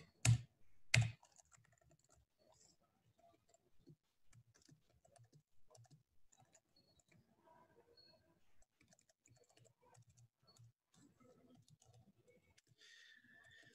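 Computer keyboard typing in a quiet room, soft irregular clicks and key taps running throughout, with two louder thumps at the start.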